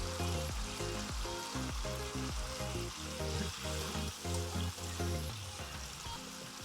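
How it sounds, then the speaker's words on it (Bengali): Prawns frying in a pan with spices, eggplant, potato and tomato give a steady loud sizzle, broken by repeated stirring scrapes and clatters, with no voices. "আমি সাথে সাথে চিংড়িটা দিয়ে দিচ্ছি যাতে মশলার সাথে এটাও কষানো হয়ে যায়"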